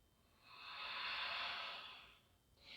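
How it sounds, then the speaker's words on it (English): A single long, airy breath in a downward dog pose during a studio-style vinyasa yoga flow swells smoothly and then fades, close to the microphone and soft, with the start of a second breath at the end. "Breathing in down dog."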